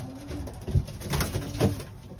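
A pigeon coos in a few low, soft, repeated phrases close by, against a quiet background with no talking.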